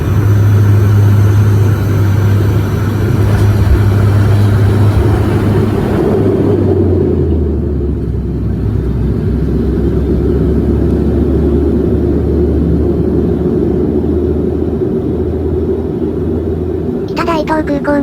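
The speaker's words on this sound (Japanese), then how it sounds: "飛行機は、北大東空港のランウェイ21に着陸します。" A commercial airliner lands on runway 21 at Kitadaito Airport after a six-minute hop from Minamidaito, heard from inside the cabin as a loud, steady engine drone that shifts lower in pitch as it settles, with a brief clatter near the end.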